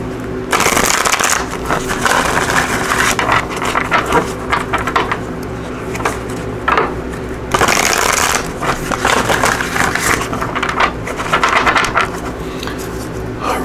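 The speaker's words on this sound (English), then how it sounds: "let's give this a good shuffle here" Tarot cards are shuffled by hand in two long bursts of crisp riffling and flicking, close and fairly loud, separated by a short pause.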